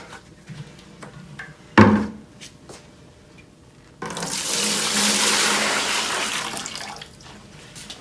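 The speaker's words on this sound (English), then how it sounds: "we're just going to dump that into a 5-gallon bucket" Water from a rinsed-out soap-making container is poured into a 5-gallon bucket, a steady, fairly loud splashing rush lasting about three seconds before tapering off, following a few quieter knocks and handling sounds.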